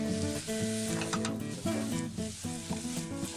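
Vegetables and steak sautéing in a pan for a frittata, a soft frying sizzle under prominent tonal music with a steady beat.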